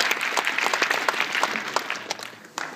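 Audience applause at a business event in India, a dense patter of many hands clapping at moderate loudness, steady for under three seconds with a slight swell near the end.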